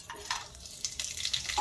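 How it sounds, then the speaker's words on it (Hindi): Whole spices sizzling in smoking-hot oil, a short burst of faint crackling and hissing with a couple of soft stirring scrapes, heard alone. "तो तेल हो गया है गरम और इसमें से निकलने लगा है धुआं, इसका मतलब है कि तेल गरम हो गया है। तो इसके अंदर मैं ऐड कर दूंगी सारे खड़े मसाले।"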